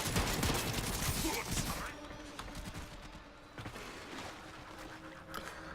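Rapid bursts of Zakti pistol fire in the Warframe video game come in clusters, loudest at the start and then thinning into scattered shots, alongside thuds and mechanical effects.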